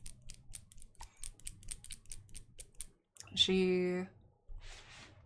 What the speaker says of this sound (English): the little clicky sound is the sound of me shaking the nail polish bottle